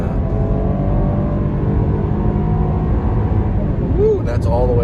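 A 2022 Jeep Grand Cherokee Summit Reserve 4x4 accelerates hard on a highway, engine note climbing steadily toward redline under a loud, continuous drone of wind and road, with a brief whoop near the end.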